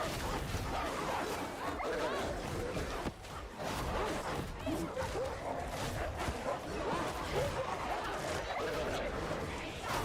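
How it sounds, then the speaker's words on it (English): A dog howls and barks in a video game amid a dense, continuous mix of game noise and whooshes, with yips and whimpers surfacing throughout while a voice talks over parts of it. "I heard the dog howl"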